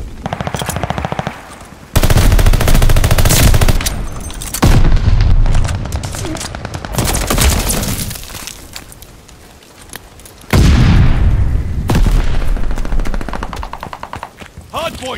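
Loud gunfire around a hardpoint in the video game Call of Duty Vanguard: rapid machine-gun bursts and heavy booms come in dense waves, dropping briefly between volleys before erupting again.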